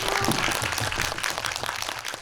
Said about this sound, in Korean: 두 분께 큰 박수 부탁드립니다.